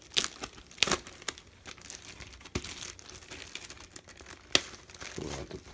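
Plastic wrapping torn and crinkled off a Gears of War 4 Collector's Edition lithogram: continuous close crackling and rustling with a few sharper rips, no talking.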